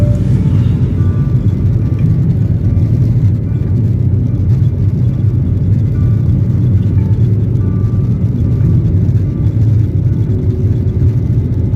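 Steady, loud engine drone and rushing air inside an airplane cabin before landing, a constant low roar with no talking.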